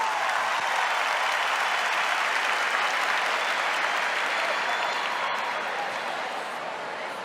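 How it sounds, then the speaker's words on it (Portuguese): Audience applause at a Canção Nova gathering, a dense sustained clapping from a large crowd that holds steady and tapers slightly at the end. "Uma salva de palmas para todos vocês."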